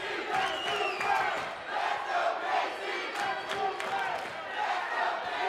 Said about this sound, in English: There's a dueling chant here.